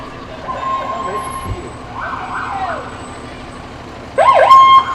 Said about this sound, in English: Fire up that siren.